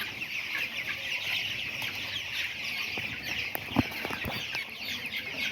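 Broiler chickens cluck steadily on a small poultry farm, a dense close-up chorus of overlapping calls with one sharper squawk near the end and no voices.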